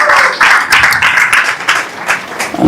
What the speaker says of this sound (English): Let us give a big round of applause for Sudhakriti Prabhu.